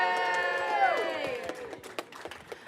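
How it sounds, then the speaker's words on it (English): A small group of people cheer and clap at the opening of a student cybersecurity club meeting. Voices rise in a short, bright burst of whoops, followed by scattered claps and chatter. "Everyone cheer."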